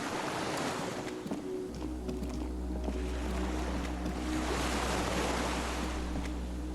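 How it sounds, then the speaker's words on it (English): Water laps softly against a swaying skiff by a dock in a video game, a continuous gentle wash of waves over a low steady hum, with no voices. "The skiff is swaying on the waves by the dock."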